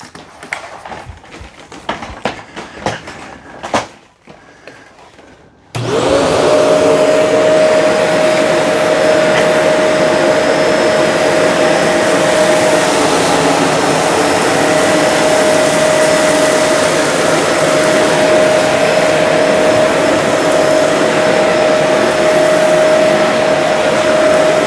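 A Shark Navigator NV360 vacuum cleaner, set to hardwood floor mode with the roller stopped, switches on after some handling clicks and runs with a loud, steady whine and airflow roar at close range.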